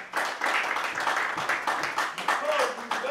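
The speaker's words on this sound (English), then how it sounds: "Give yourselves a round of applause" A varsity football team claps in a short run of rhythmic applause close by, while a voice is heard briefly near the end.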